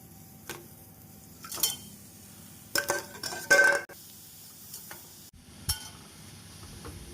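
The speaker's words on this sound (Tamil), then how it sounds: "வெல்லமும் தேங்காய் துருவலும் நன்றாக மிக்ஸ் ஆகும் வரை நாம் வதக்க வேண்டும்" Grated coconut and jaggery being sautéed in a pan for kozhukattai filling, with soft stirring scrapes, occasional clinks of a spoon against the pan, and faint sizzling, in quiet irregular bursts.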